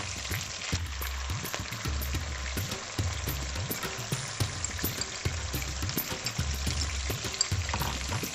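Bay leaf, whole garam masala, onion paste, ginger paste and chili garlic paste fry in a pan for a Kolkata-style white chicken biryani, giving a steady soft sizzle with faint crackles and pops throughout.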